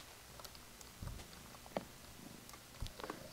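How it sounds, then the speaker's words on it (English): A cat purrs softly in a video game, a faint, low, continuous rumble under a quiet background with a few small clicks and taps. "I can hear that cat."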